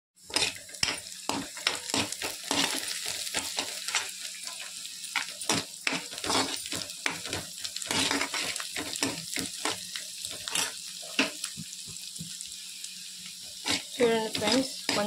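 Onions and green chillies fry in a pan with a crackling sizzle, punctuated by frequent sharp stirring clanks and scrapes at an uneven rhythm.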